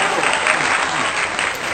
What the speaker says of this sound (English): Y'all go ahead and clap that thing on up.